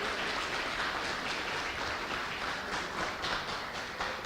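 Church congregation applauding during a sermon, a steady wash of many hands clapping at moderate level for the whole stretch, no voices on top.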